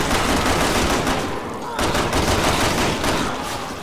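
Rapid, dense gunfire from Resident Evil 6 gameplay, loud and continuous with a brief dip partway through.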